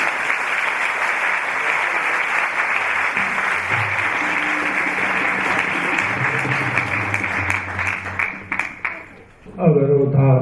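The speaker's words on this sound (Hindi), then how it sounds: "चलो ताली बजाओ।" An audience at a Hindi spiritual talk claps together on cue, a dense continuous wash of applause filling most of the clip, with a voice speaking over it and the clapping breaking off near the end.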